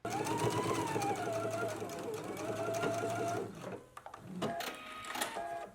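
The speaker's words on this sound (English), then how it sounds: "just stitch across there once you're happy with the placement of your strap" A sewing machine stitches across strap casing lines on a garment, running steadily and close for about three and a half seconds, then stopping and restarting in shorter bursts.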